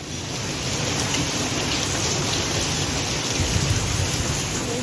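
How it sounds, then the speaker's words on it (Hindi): Heavy rain pours down in a steady, dense hiss that holds unbroken and loud throughout, with no voices over it. "बारिश हो रही है। अच्छी हो रही है।"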